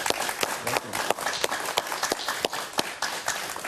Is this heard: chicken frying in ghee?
no